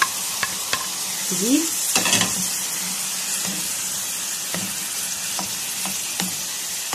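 Minced meat with chopped onions fries in a pan with a continuous close sizzle, broken by scraping spoon strokes and a few clinks. One short spoken word is heard over it.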